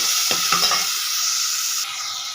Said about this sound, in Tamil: தக்காளியும் போட்டு வதக்கணும்.